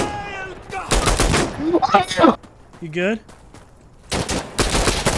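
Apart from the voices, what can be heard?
gunshots in a video game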